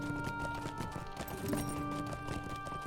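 Horse hooves clip-clop at a steady trotting rhythm in Lord of the Rings Online, crossing the Southern Bree Fields, held at an even level over a constant game music backdrop with no talk.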